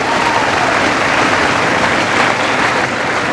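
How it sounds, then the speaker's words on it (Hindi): Large group of NEET exam students clapping for themselves in a preparation session, a loud, dense, continuous roar of applause from a big crowd. "एक बार खुद के लिए 4 जोरदार तालियां बजा दीजिए"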